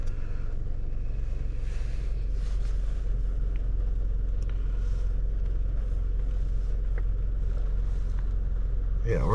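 A 2007 Toyota Camry with intermittent stalling and an aftermarket MAF sensor idles with a low steady rumble as it is put into gear, with light rain and occasional faint clicks around it.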